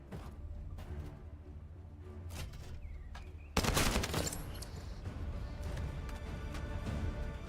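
A cannon weapon fires in the co-op shooter video game The First Descendant, erupting as a loud, dense burst of blasts midway, then lingering as rumbling, crackling combat noise.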